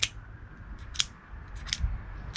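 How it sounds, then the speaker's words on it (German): An Olight Open2 ballpoint pen is flicked open like a switchblade, giving several short, crisp mechanical clicks at irregular intervals, close and fairly quiet. "den Kugelschreiber macht man so auf"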